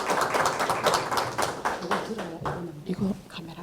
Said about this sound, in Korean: 우리 선교사님 나오실 때 큰 박수로 우리 함께 맞았으면 좋겠습니다